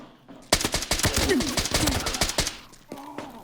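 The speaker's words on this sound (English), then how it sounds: "I am hearing like suppressed gunfire off in the distance" A rapid string of muffled, snappy suppressed gunshots in the distance in an extraction shooter video game, in quick bursts, dense and irregular, which fades into a few scattered faint pops near the end.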